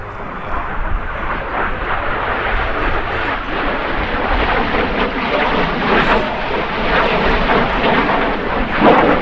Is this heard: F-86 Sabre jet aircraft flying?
yes